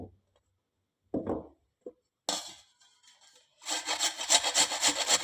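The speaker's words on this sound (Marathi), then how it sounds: "आता आपण या किसणीने हे गाजर किसून घेऊया." Peeled carrots scraped against a hand grater for carrot halwa, giving a few short rasps and then a steady, close, rhythmic grating burst near the end, with no talk.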